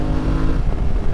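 A Honda CRF 300 motorcycle being ridden gives a loud, close, rough engine drone that holds steady throughout with slight surges, and no voices are heard.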